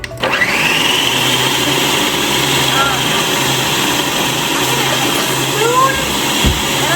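A food processor purees almond flour into a dough, its steady loud motor whir running continuously, with voices talking over it.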